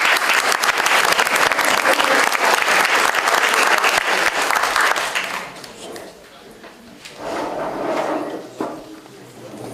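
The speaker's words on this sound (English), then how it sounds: "Let's give them a round of applause." Audience applause at a local candidates' forum, loud and steady for about five seconds, then fading into scattered claps and room noise with a brief voice near the end.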